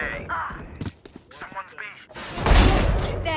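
Gunfire bursts in the tactical shooter game Valorant, with a loud, dense flurry of shots near the end after sparser thumps, heard with players talking over it.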